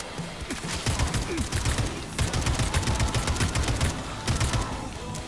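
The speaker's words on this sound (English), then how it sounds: "Let me just shoot him." Rapid bursts of gunfire in Atomic Heart crackle loudly at close range, rattling in quick repeated volleys with short pauses between them.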